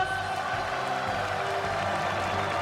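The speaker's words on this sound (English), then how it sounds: "It's a standing ovation for Mark Coleman." A packed arena crowd at a Pride FC mixed martial arts fight giving a standing ovation, a dense, steady roar of cheering and clapping that fills the space without a break.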